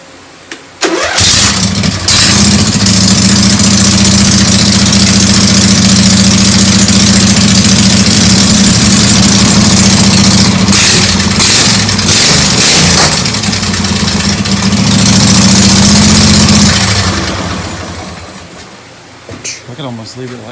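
Modified mud mower engine fitted with 90-degree exhaust pipes starts and runs, a loud, raspy rumbling roar held steady for long stretches before dying down.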